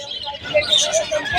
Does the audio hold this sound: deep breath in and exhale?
no